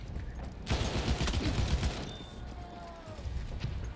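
A Lewis gun fires a rapid burst in the video game Battlefield 1, a loud rattling stream of shots lasting over a second, followed by rumbling battle noise and distant whines.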